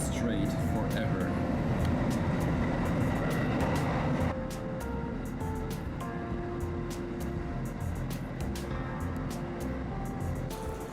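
A regular train rolls along dead-straight track in Hokkaido, a steady interior rumble with rhythmic rail clicks; the noise drops a notch partway through, and faint talk is present.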